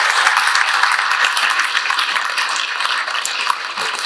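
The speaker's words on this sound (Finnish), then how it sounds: "aplodit myös herroille, olkaa hyvä" A festive crowd in a concert hall, marking a pensioners' association's anniversary, claps for two gentlemen on stage. The applause is dense and continuous, bright and fairly loud throughout, with no voices over it.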